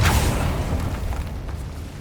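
The Confringo explosive spell goes off in the Hogwarts Legacy video game, a loud, deep burst at the start that rumbles and fades away over two seconds.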